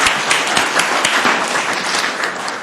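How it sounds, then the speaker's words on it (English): A city council chamber audience claps after the Pledge of Allegiance, a loud, close burst of applause that runs steadily throughout. "let's give them a round of applause"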